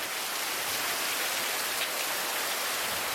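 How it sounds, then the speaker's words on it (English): Afternoon rain pours down steadily in Florida, a dense, continuous hiss of heavy rainfall with no voices, even and close throughout. "And then the clouds grow and the rain pours down."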